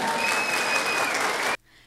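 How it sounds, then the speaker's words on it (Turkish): An audience of parents at a primary school get-together claps warmly, a full, close burst of applause that runs evenly before cutting off abruptly into near silence. "bize bu konuda destek olan arkadaşlarımıza tekrar alkış istiyorum lütfen"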